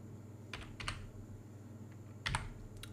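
Short bursts of keystrokes on a computer keyboard, a couple of quick clusters separated by pauses, quiet and close with a faint background hum.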